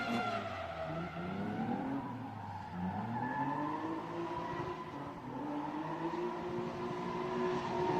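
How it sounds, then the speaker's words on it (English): A purple Nissan 240 drift car engine revs hard against the limiter, rising and falling in pitch while tires squeal in a long continuous skid, loud and steady throughout, during qualifying. "love the sound of that car"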